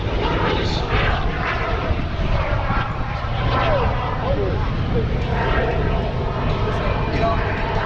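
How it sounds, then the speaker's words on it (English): A mini jet engine spins up at an air show with a loud, rising whine over steady aircraft engine roar, while people talk nearby throughout. "But how cool to have the mini jet. Look at that. Just spin up."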